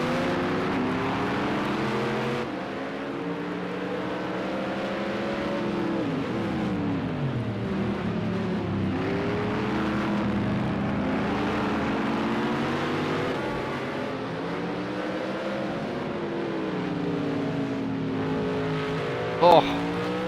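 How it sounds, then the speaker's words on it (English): Race cars at the Nurburgring GP circuit in the racing game Project Cars 2 drone continuously, engine pitch rising and falling with shifts and revs throughout, under a commentator's talk, with a brief sharp sound near the end. "I can tell you Chrysler and DTI Dave are still circulating 9th and 10th respectively at the moment"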